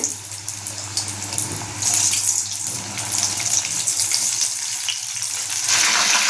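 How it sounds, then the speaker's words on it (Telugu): Mushroom pakodi batter drops into hot oil in a kadai, a continuous bubbling hiss that swells after the first couple of seconds and stays loud to the end, with no talking. "ఆయిల్ కాగింది ఇప్పుడు మనం కలిపి ఉంచుకున్న మష్రూమ్స్ని ఇలా వేసుకోవాలండి"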